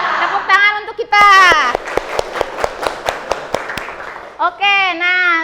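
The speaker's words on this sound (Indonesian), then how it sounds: "Tepuk tangan untuk kita." A vocational school class claps in unison, a series of sharp, evenly spaced rhythmic hand claps, framed by children chanting loudly before and after.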